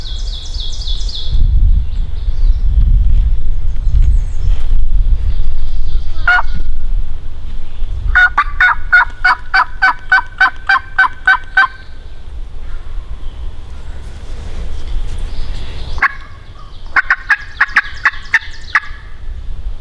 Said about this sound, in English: the decoys about 10, 12 yards away, and Dave started his sweet yelping.